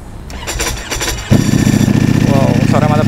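A Ducati Panigale V4S fitted with a dry clutch fires up after a second of background noise, its engine catching with a sudden loud burst and settling into a steady, throbbing idle with clattering overtones.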